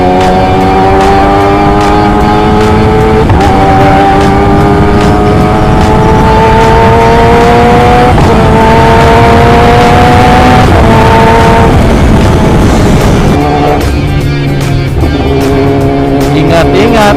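Engine of a big bike motorcycle under way on the road, a loud, steady drone with gear-shift pitch steps every few seconds and strong wind noise throughout.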